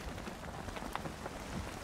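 Rain falling in the video game Valheim, a soft, steady patter across a dense texture of drops, faint and continuous without pauses, with no voices over it.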